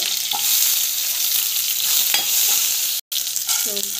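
Chana dal, shallots and garlic sautéing in a pan give a steady close sizzle, with stirring scrapes throughout and a brief dropout near the end.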